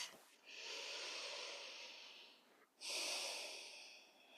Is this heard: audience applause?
no